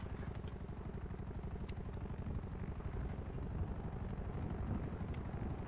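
A video game helicopter's rotor keeps up a steady, even thumping hum at moderate distance, continuous throughout with no voices.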